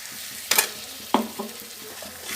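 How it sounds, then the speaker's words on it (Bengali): Water splashed into hot masala in a pan for a Bengali tiger prawn malai curry, two sharp bursts of sizzle followed by softer crackling and spluttering as the liquid settles. "এবার আমি অল্প করে জল দিয়ে দিচ্ছি"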